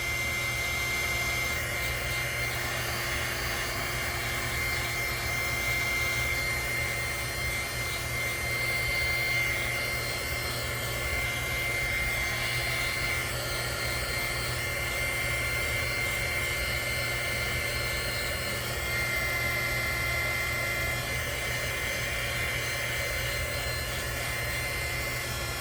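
A dryer blows a steady, loud, unbroken whoosh of air over a painted craft frog, holding the same even roar from start to finish with no voices.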